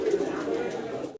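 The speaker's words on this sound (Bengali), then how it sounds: "ভিডিও স্ক্রিনে দর্শক আমরা এক জোড়া হাই ফিলার কবুতর দেখাচ্ছি" A Budapest high flier pigeon coos softly in a brief, low, continuous murmur, close and faint.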